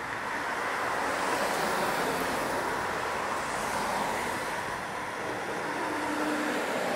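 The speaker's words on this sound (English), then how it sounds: "due to the nature of the cars and the motorcycles that are on this road," Road traffic with cars and motorcycles passing makes a continuous broad roar, steady and moderately distant with no distinct individual passes and no talking.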